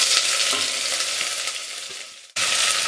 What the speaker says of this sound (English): And on low flame, allow the onions to saute.